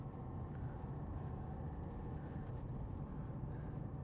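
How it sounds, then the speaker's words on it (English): A 2014 Volvo XC60 2.4 D4 five-cylinder diesel with Geartronic automatic and AWD runs with a steady, deep rumble, continuous and moderately loud throughout. "That the Volvo 5-cylinder engine, it sounds like a tank"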